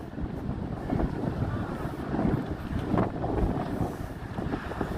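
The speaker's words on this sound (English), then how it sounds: "It's a little windy, so you might hear some wind." Strong gusty wind buffeting a microphone outdoors on a chilly, windy day beside flapping flags, a continuous low rumble that swells and eases with each gust, with no speech.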